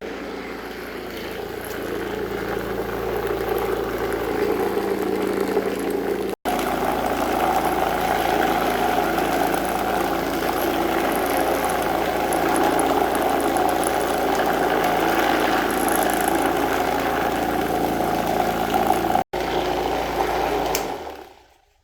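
A Lyman Turbo Pro 1200 tumbler runs on concrete, giving off a loud, steady, close vibrating whir with a gritty rattle of media, unbroken for about twenty seconds before it powers down at the end.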